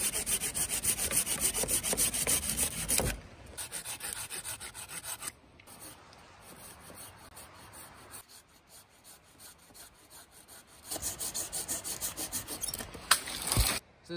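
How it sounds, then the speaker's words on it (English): A pruning saw cuts through small tree shoots while pollarding, giving steady close rasping strokes of wood being sawn in two bursts, with a quieter pause between them. "so I'm just going to stick with the pruning saw,"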